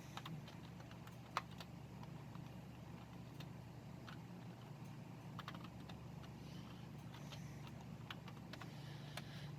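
Quiet, irregular keystrokes on a computer keyboard during testing and repair of an IBM 8590 computer, typed one-handed in sparse clicks over a steady low machine hum.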